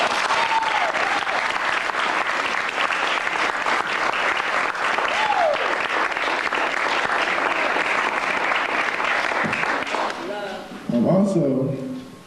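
Audience applause for the Haraka writers at a spring 2001 student event: steady, dense clapping from a crowd sustained for about ten seconds before thinning out, with a voice starting to speak near the end.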